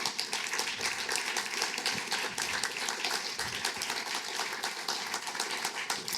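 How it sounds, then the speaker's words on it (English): An audience applauds a guest speaker at the end of a talk, giving a steady, even wash of many hands clapping that fills the room and continues without a break, with no voices over it. "A round of applause for Brett."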